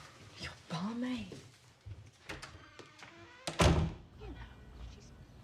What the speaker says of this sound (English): Why are you pounding on the door?